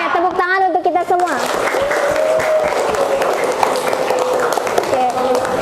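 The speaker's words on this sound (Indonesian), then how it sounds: "tepuk tangan untuk kita semua." Classroom of students applauding together during an arts and culture lesson, a dense patter of claps under raised voices and chatter, with a teacher's voice heard at the start.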